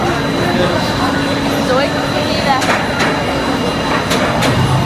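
A train rumbles past with a steady roar and occasional sharp metallic clicks and squeals, loud and close, with people talking faintly underneath.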